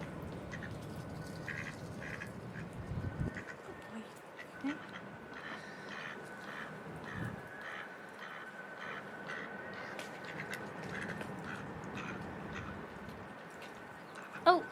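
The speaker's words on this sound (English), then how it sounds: "Duckies are back, wanting some more food" Wild ducks quack in a rough, repeated series at close range outdoors, faint and intermittent, with occasional other bird calls and a voice speaking softly nearby.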